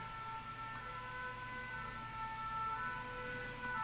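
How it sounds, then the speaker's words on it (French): A faint, distant siren wailing steadily in the background, with a low continuous hum beneath it. "vous entendez peut-être la sirène"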